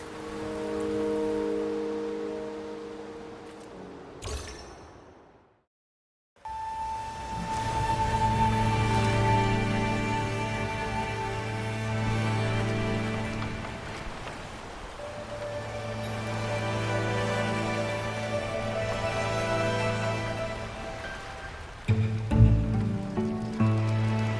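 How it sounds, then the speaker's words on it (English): Rain falls steadily in the video game Wuthering Waves, a dense hiss of drops on surfaces that cuts out briefly to silence, then returns, softening toward the end. "The rain is subsiding, and the sky will soon clear."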